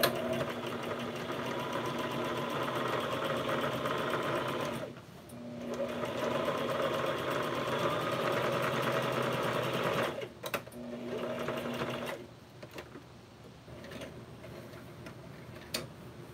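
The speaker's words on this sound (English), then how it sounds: "I'm just sewing" A sewing machine stitches a crazy quilt coaster in rapid, even runs of mechanical ticking and whirring, pausing and restarting several times, close and alone.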